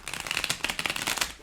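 Tarot cards are shuffled by hand in a quick run of crisp riffling flicks and slaps, close and fairly loud, with no talking.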